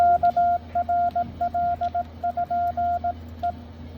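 A steady single-tone beeping of Morse code on amateur radio at 18.094, short and long pulses in quick rhythmic sequence over faint radio hiss.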